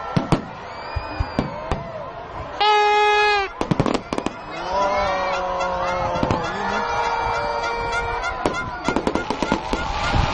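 Firecrackers and fireworks go off loudly in quick bursts, sharp cracks coming one after another without pause, with a whistling or honking tone and people talking in between.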